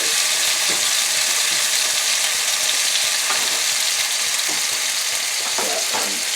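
Tuna steaks sear in a pan with a steady, close sizzle and crackle that runs the whole time, with small stirring clicks and bumps mixed in and nobody talking.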